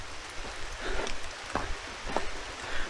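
Heavy rain falls steadily as a dense, constant hiss with scattered louder drops and splashes striking nearby surfaces.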